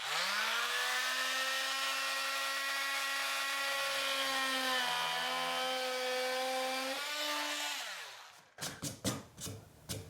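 A Milwaukee M12 oscillating multi tool cuts into wooden baseboard with a loud, steady high buzz close up, its pitch dipping as the blade bites, then stopping before a few brief clunks.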